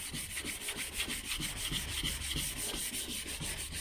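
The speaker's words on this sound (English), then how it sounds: "we'll do a little extra sanding to get this edge off" A painted edge on a 1981 Silverado truck is hand-sanded during a two-tone paint job. Quick, even rasping strokes repeat rapidly and steadily up close, with no talking.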